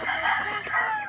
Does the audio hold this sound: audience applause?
no